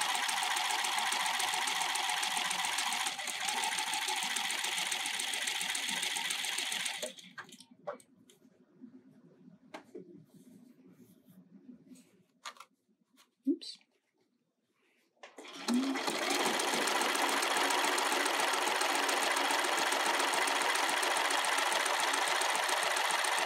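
A sewing machine runs fast and steady to stitch a stretchy seam on a garment, stops for several seconds with scattered clicks and fabric handling, then starts again at full speed; close and loud.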